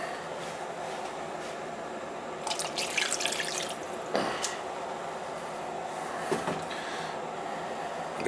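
Turkey juices trickling and dripping into a roasting pan for a Thanksgiving turkey, a faint watery splashing with a few brief louder pours over a steady background hiss.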